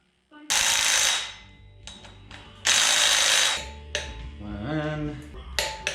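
Flywheel bolts go onto a V8 S10 during a five-speed manual swap, with two loud bursts of a power tool running, separated by quieter clicks and handling noises and a brief voice.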